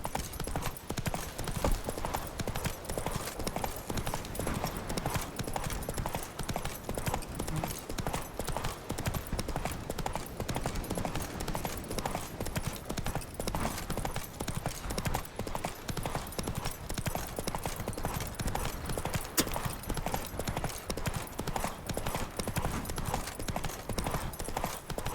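A horse gallops in The Witcher 3 Wild Hunt, with continuous rapid hoofbeats pounding throughout, loud and steady, over outdoor game ambience and an occasional faint whinny.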